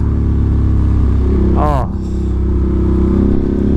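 A 2025 Ducati Panigale V4 exhaust drones loud and close at a steady pitch, with a brief rising-and-falling sweep in the middle before the even rumble resumes.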